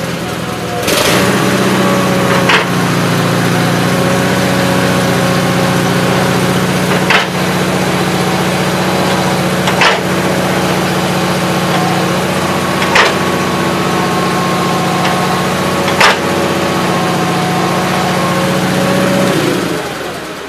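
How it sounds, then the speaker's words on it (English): A Gravely 818-T tractor engine running at a steady, loud, close drone with a strong low hum, with periodic sharp clicks or knocks recurring every few seconds throughout. "Slower at idle and fairly fast when it's revved up"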